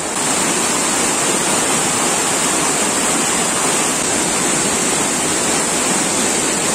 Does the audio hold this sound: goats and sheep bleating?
no